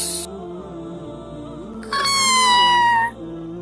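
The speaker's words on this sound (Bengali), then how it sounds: "এই বিড়াল, যা যা, হুস হুস" A cartoon cat gives a loud, drawn-out meow that lasts about a second, close and clear, after an earlier brief high tone.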